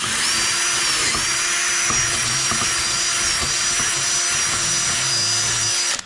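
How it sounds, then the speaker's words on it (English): A power drill spins steadily as its bit is wobbled to enlarge a hole in a metal mower deck, giving a loud, continuous high whine that cuts off abruptly at the end. "kind of wobbling the bit a little bit just to round it out"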